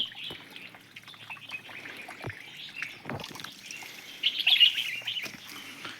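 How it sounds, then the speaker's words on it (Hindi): Small birds chirp and tweet intermittently in a forest, faint and somewhat distant, over a soft background trickle of running water. "देखो दोस्तों, उड़ रही है चिड़िया, बहुत ही मनोरम दृश्य है।"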